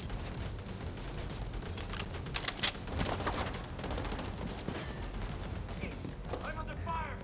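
Gunfire in the video game The Division 2, with rapid bursts and volleys of shots crackling continuously, a few sharper close reports standing out, and voices talking briefly near the end.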